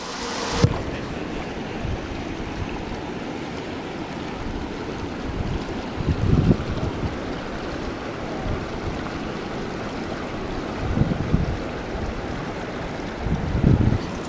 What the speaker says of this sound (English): Gotta love the sound of wind.